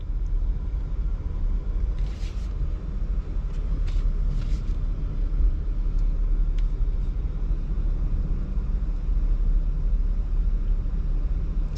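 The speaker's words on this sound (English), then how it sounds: "It's trying to work it out, but it's just spinning." A 2022 Jeep Grand Cherokee Overland off-road, its engine droning at a steady low rumble as the tires spin without gaining grip, with a few brief higher scrapes early on and no talking.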